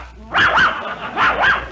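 Police dog barking as a radio comedy sound effect, two quick pairs of sharp, loud barks close up, separated by a brief pause, with no speech over them.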